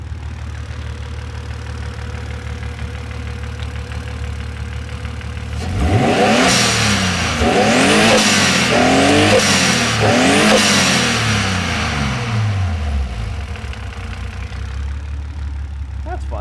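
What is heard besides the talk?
car engine revving at full throttle, building boost on T3 turbo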